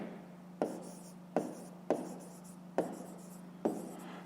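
Pen tapping and scratching on paper while writing out a math exercise, five distinct sharp strokes in a slow irregular rhythm over a steady low hum, close and quiet, no speech.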